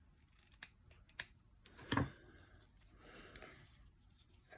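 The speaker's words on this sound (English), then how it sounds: "I think we're gonna trim our tails off more like" Scissors snip through ribbon bow tails on a handmade Christmas card, a few sharp close cuts with quiet handling sounds between them.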